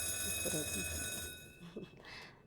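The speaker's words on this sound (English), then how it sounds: "I heard you talking through the buzzer." A steady electronic buzzer tone with bright harmonics sounds for about a second and a half, with muffled talking underneath, then cuts off.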